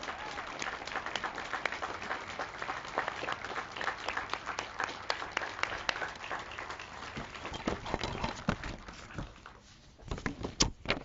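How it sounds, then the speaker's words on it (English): An audience at the grand opening of the Lenox Public Safety Complex gives a round of applause, a steady wash of clapping that runs throughout and thins toward the end. "give a round of applause for our"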